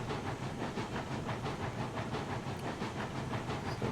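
Heisler steam locomotive in RailRoads Online hauling two Class 70 cars, a steady rhythmic chuffing hiss with even regular beats, moderately quiet and alone without talk.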